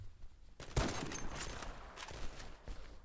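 Gunfire in the online shooter Zula: a sharp shot lands early, followed by a dense burst of rapid rounds and a few more scattered cracks, loud and close, with no talk.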